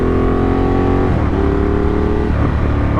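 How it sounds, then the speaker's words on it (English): A 2015 Ducati Diavel's two-cylinder L-twin engine revs loudly and close, a thumpy throttle blip rising and falling twice over a continuous rumbling idle. "I really like the sound of V-twins, I mean L-twin in this case, but twin engines generally, the two cylinder setup. It's very thumpy."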